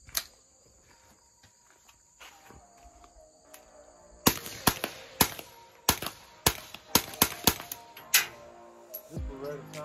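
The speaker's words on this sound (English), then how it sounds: "we're going to sling some more suppressed 32 auto shots down range" Suppressed Beretta Tomcat .32 auto pocket pistol fired down range, a rapid string of about ten sharp, close cracks after a quieter stretch, with a high insect-like whine in the background.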